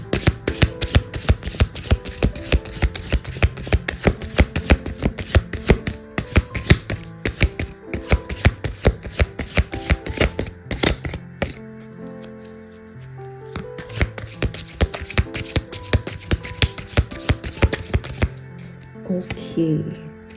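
Tarot cards being shuffled by hand, a fast run of crisp riffling taps and flicks close up, pausing briefly then resuming, with a soft voice near the end.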